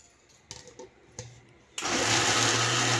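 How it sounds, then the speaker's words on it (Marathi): A kitchen mixer grinder coarsely grinding idli batter made with varai, sabudana and curd. A few light taps and knocks come first, then the motor starts and runs with a loud steady whir to the end. "आणि आता मिक्सरला जाडसर वाटून घ्यायचं आहे"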